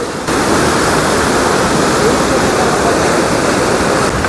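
The Mandakini River near Kedarnath rushes under high pressure, a loud, dense, continuous roar of churning water close at hand.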